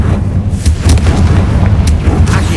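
Confringo fire spell going off in the Hogwarts Legacy video game, a series of loud booming blasts and crackling bursts over a dense low rumble, filling the whole stretch with no talking.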